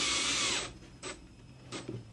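A power drill drives screws into wood for Adirondack folding chair templates: one longer whirring burst, then two short quick spins, close up and otherwise quiet.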